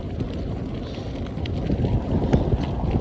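Steady wind roaring across the microphone during a long bike ride, a continuous low buffeting rush that swells slightly toward the end, with no voices.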